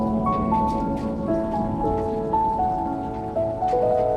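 Gentle rain falls steadily on surfaces, a constant close patter with scattered drops, underneath soft sustained musical tones and no talk.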